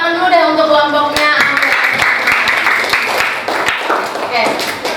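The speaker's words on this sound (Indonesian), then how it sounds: "tepuk tangan dulu deh untuk kelompoknya" A classroom of students claps for a presenting group, scattered hand claps under a voice speaking, with distinct individual claps spaced through the stretch.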